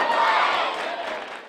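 A crowd chants melodically after a high school sectional championship game win, a loud burst of massed voices that swells early and then slowly fades.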